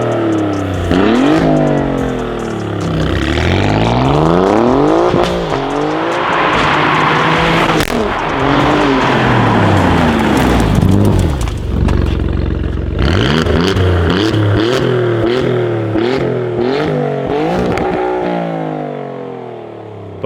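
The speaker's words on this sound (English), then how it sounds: "we've just got the drive-bys, launch as well, bit of revving just to show you guys the sound" A car's engine revs hard through repeated rising and falling sweeps, with a launch and passing drive-bys, loud and close, shifting gears in a sustained, aggressive run with no talking.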